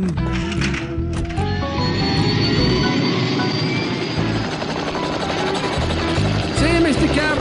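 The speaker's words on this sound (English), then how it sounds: "Hellie can fly because he's got them big whirly things on his head. They're called rotor blades." A cartoon helicopter's rotor blades whir loudly and steadily with a mechanical chopping drone, accompanied by fluttering, wobbling effects and swooping tones near the end.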